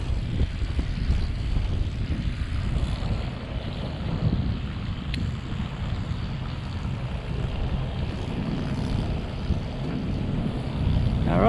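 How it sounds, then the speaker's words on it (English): Steady wind gusts buffet a sailboat out on open water, a broad continuous rush with some wave wash beneath, loud and close throughout with no talking. "there's a little bit of wind out there too today, so it should be some fun sailing"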